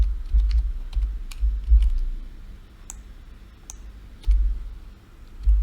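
Someone types an EPSG projection code on a computer keyboard, a close series of light, irregular key clicks in short runs with brief pauses, no voices.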